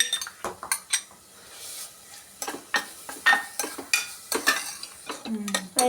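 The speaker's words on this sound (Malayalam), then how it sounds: "നമ്മള് കുറച്ച് ഇങ്ങനെ ഇളക്കിയിട്ടുണ്ട്" Ginger garlic paste being stirred in a pan with a spoon, giving repeated close scraping and clinking strokes in an irregular rhythm, with a light sizzle underneath and no talking.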